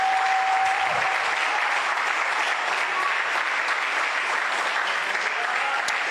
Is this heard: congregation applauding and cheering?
yes